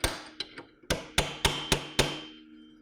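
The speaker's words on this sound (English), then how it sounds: "And I'm going to chisel it back tight." Seven sharp metallic hammer blows on a chisel staking a keeper nut tight on an E-Z-GO Valor golf cart clutch, spaced irregularly then steady, each ringing briefly, close and clear with no talk.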